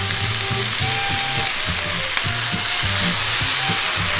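Tomatoes sizzle loudly in a frying pan alongside lamb steaks, a dense steady hiss close up. A faint rhythmic clicking and scraping runs underneath it.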